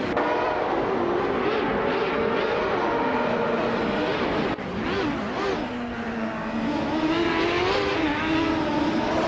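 A 1995 Penske PC23 and other open-wheel racing cars scream past in a racing video game, with high revving engines rising and falling continuously and loud, and no talk over them.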